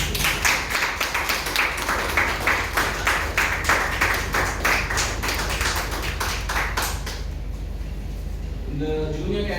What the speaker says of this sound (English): Please applaud for the students.